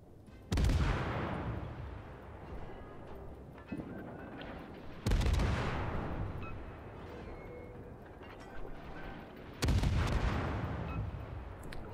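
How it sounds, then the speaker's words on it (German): Naval artillery from the Leningrad destroyer fires at the battleship Gneisenau in World of Warships: three heavy booming salvos, each a loud sudden blast with a long rumbling decay, spaced about four to five seconds apart. "Aber ich kann jetzt auch auf die Kneisenau noch mal einmal schießen."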